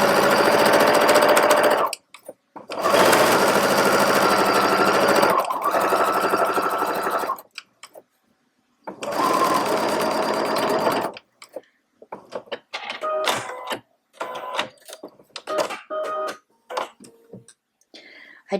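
Home sewing machine runs in three long, loud stitching bursts separated by short pauses while a grocery bag holder is sewn, followed by lighter clicks and handling taps.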